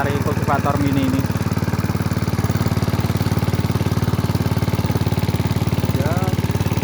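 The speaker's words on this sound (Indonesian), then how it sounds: "kalau membajak pakai rotary kultivator mini ini" A mini rotary cultivator tilling a wet field, its small engine running loud and steady with a fast pulsing chug throughout, with a few brief voices over it.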